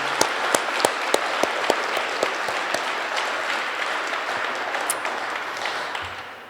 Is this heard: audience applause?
yes